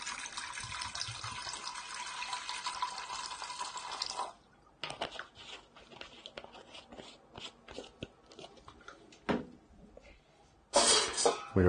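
Water pours and splashes into a metal steam steriliser, a steady gush that stops, followed by scattered clinks and handling sounds, then another short pour.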